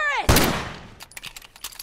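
A turret fires in The Last of Us multiplayer: a loud, sharp blast with a ringing tail, followed by a rapid string of fainter gunshots as a player shouts over them.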